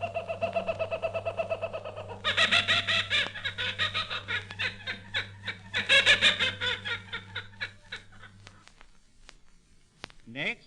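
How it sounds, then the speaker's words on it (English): Kookaburra's dawn laughing call in a forest, a long rising and falling run of cackling, chuckling notes that builds loud near the middle and then tapers off, with a steady low hum underneath. "Just after the first glimmer of dawn, the kookaburra peals forth his merry laughter"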